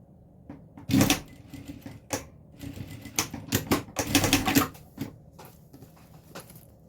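Sewing machine stitching a reinforced edge of a small fabric phone pouch, heard as several quick bursts of mechanical rattling separated by short pauses, fairly close.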